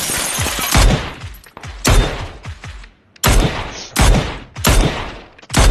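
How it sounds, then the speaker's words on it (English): Bursts of automatic gunfire from a PUBG battle crack out in several close, loud volleys separated by brief pauses, with no talk over them. "Where's Coon shooting?"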